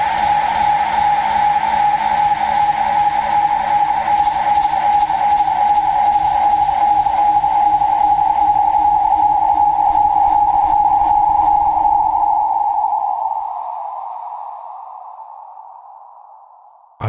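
A loud, sustained electronic feedback tone from delay routed into reverb and delay into delay in Ableton Live 12 drones and swells with layered echoes, then fades out over the last few seconds into silence.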